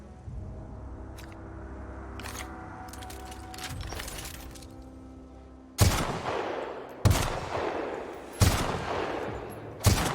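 A gun in The Outer Worlds fires four loud, sharp shots spaced about 1.3 seconds apart, each cracking and then decaying, after several seconds of quieter clatter and hum.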